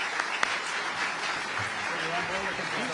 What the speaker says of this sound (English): give all of our panelists a round of applause